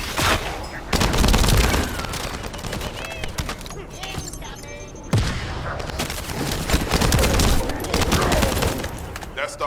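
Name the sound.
gunfire in video game The First Descendant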